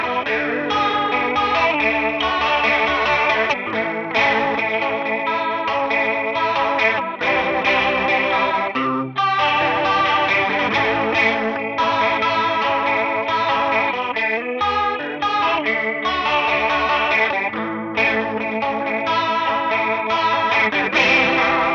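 Electric guitar runs through a chorus pedal for a faux Leslie rotary-speaker shimmer, playing an alt-rock song with sustained, slightly distorted chords and a steady full sound.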